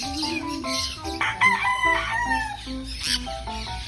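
A rooster crows loudly nearby, with strained, harmonic calls overlapping as other fowl cluck and crow around it in a busy farmyard.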